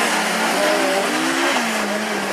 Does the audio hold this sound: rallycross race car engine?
yes